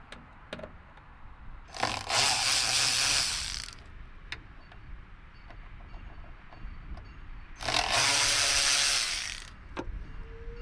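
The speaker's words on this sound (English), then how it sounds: "Remove the 2 T15 screws that hold it in place." Two T15 screws being backed out of the reverse light housing on a 2020 Chevrolet Silverado, heard as two separate bursts of close mechanical whirring or ratcheting from a driver, each lasting a couple of seconds, with quiet handling noise in between.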